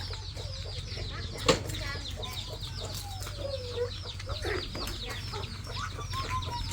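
Chickens cluck and call repeatedly at a moderate distance, over a steady low background hum, with one brief louder knock early on.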